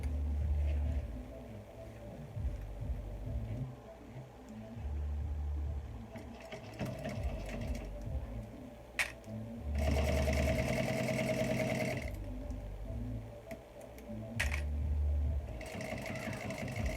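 Sewing machine stitching a seam on a small Dayna Pack bag, whirring in several steady, close runs with brief stops, handling clicks and a pause between passes.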